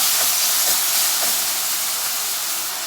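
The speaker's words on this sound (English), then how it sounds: "Now we're going to put chopped onions." Chopped red onions, about four heaped tablespoons, sauteing in a pan for a potato and capsicum curry, giving a steady, close broadband hiss and sizzle with a few faint crackles and no voices.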